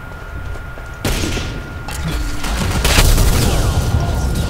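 Sniper shots and gunfire in the Ghost Recon video game: a loud crack, then dense, continuous rattling fire and booms that keep building.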